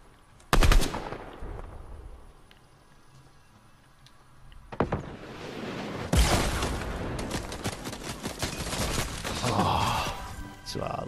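Fortnite gunfire: several sharp shot bursts, a single crack early, then a dense stretch of rapid automatic fire that keeps rattling to the end, moderately loud, with a faint voice briefly underneath.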